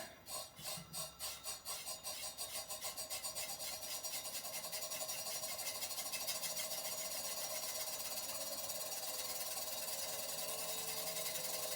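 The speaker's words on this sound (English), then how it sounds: "Now I will turn on the rotors, get those going up to speed." Counter-rotating Graviflyer rotors spin up toward 2,500 and 3,000 RPM, a pulsing whir that quickens over the first few seconds and then settles into a steady, dense high-pitched drone, alone with no talk.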